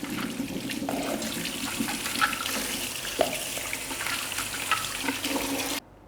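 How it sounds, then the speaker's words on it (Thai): Steady running water splashes continuously for several seconds from a tap over a sink, rinsing soaked vegetables and fruit, then cuts off abruptly. "ล้างน้ำอีกสักหนึ่งรอบครับ"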